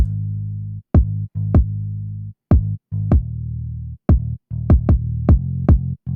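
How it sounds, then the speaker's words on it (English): Bass guitar line in a beat: short plucked low notes in a syncopated rhythm, each with a bright attack, separated by brief gaps and played up front and alone. "I added some bass guitar"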